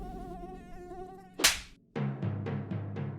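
Mosquitoes buzz in close, high-pitched whining tones, first as a wavering drone, then after a sharp swish as a series of short rising bursts in a quick rhythm.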